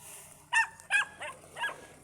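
A dog barks several times in short, spaced yaps over about two seconds, fairly close, with quieter barks trailing off at the end.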